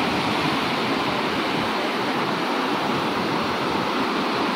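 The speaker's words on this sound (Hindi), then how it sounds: "ये पानी की लहरें चेक करें और आवाज़ चेक करें किस तरह की है।" Canal water near a lake in Lal Suhanra National Park, Bahawalpur, rushing and churning in waves as a dense, continuous broadband roar, loud and close, with no talk.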